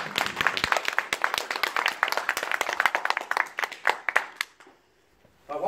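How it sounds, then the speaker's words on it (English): Audience at a political talk by John Lawrence on violence in Oldham, Manchester breaks into a round of applause, dense clapping from many hands fading out near the end before a sound returns. "Big round of applause for John."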